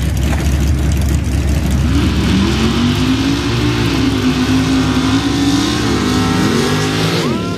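A sand drag race vehicle roars down the track, its engine revving loud and rising in pitch as it accelerates, a continuous near roar that fades at the end.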